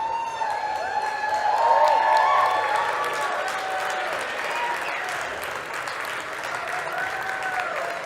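An audience at a livestreamed event applauding and cheering for a couple as they stand, with dense clapping that swells and then slowly tapers, and scattered whoops through it.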